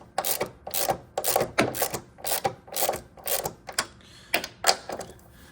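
On a 2010 Chevy Cobalt, a hand socket wrench ratchets the front strut bolts loose in a series of about nine crisp, close clicking bursts with short pauses between strokes.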